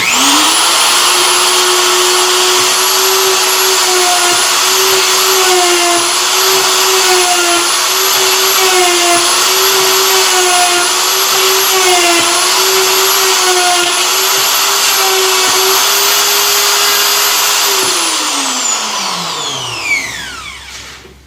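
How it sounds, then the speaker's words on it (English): A router cuts a 71 mm wide, 10 mm deep mortise with a loud, steady high-pitched whine and a sustained motor drone. The whine holds for about eighteen seconds and then winds down as the motor switches off. "Cutting a 71 millimeter wide 10 millimeter mortise."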